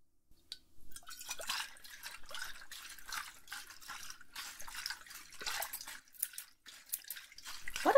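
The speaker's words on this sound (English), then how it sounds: "What are these water noises?" Irregular water drips and small splashes, close and fairly soft, continuing steadily in a quiet indoor setting with no talking.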